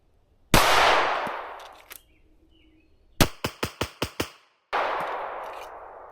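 Springfield Prodigy pistol fired during shooting drills: a loud report, a gap, then a rapid string of six sharp shots in quick succession, followed by another blast that decays into echo.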